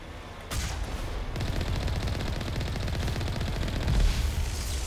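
Sustained automatic gunfire from a Mass Effect shooter game, a dense rapid rattle of shots that starts abruptly after a brief lull and runs continuously at steady loudness, with a slight swell near the end.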